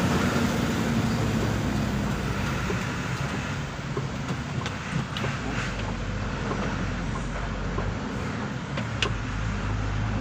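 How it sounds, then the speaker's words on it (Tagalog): Heavy loaded dump trucks roll past on a rain-wet road, a loud continuous low rumble and engine drone with tire hiss filling the whole stretch, with no talking. "Daming mga kargadong dump truck."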